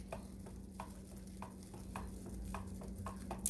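Anise-scented soap batter gets mixed in a container, with soft rhythmic stirring strokes repeating about twice a second over a faint steady hum, quiet and close.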